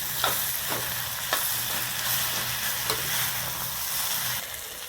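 A spatula scrapes and stirs through sizzling tomatoes in a frying pan, with steady frying crackle and a few sharp clicks of utensil on metal.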